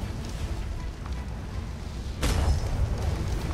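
A dull booming report breaks through a constant rumbling background, followed by a lingering low roar; a single heavy ship's cannon shot in the video game ATLAS, during a naval battle.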